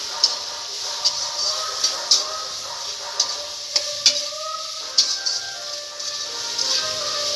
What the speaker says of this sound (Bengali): আলু ভাজার ভিতরে আমি একটু লবণ একটু হলুদ দিয়ে দেবো। আলুটাকে এবার ভালো করে ভেজে নেব।